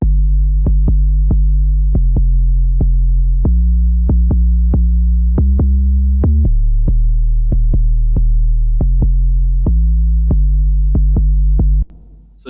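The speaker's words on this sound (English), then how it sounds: "This is the ES2 synthesizer in Logic that I just set to mimic an 808 really." A sine-based 808-style bass from a Logic ES2 synthesizer plays a steady run of deep, booming sub notes with short clicky attacks, shifting pitch across a pattern and heard alone before stopping abruptly.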